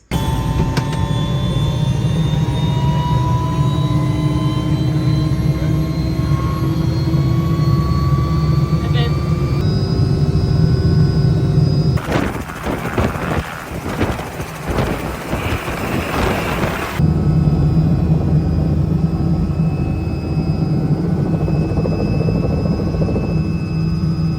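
A tour helicopter over Orlando roars loudly and steadily in flight, heard up close from inside, with a burst of rougher noise partway through.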